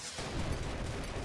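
Gunfire rattles at a deer boss in the video game Deer Simulator, a dense continuous burst of rapid shots with a booming low end, loud and close throughout.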